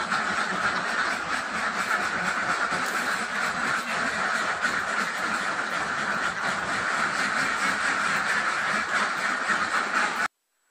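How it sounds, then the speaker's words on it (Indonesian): A pen of female Mojosari laying ducks, about 4,000 birds across eight blocks, fills the air with a dense, continuous chorus of overlapping quacks, loud and unbroken until it ends abruptly. "Jenis bebek yang saya pelihara ini jenis Mojokertoan, Mojosari, petelur."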